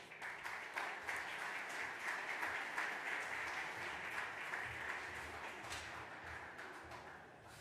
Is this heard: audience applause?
yes